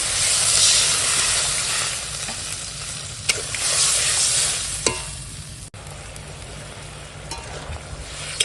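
Water poured into tomato masala sizzling in a pan for a fish curry, giving a loud hiss and bubbling sizzle with a few sharp clinks from a stirring spoon.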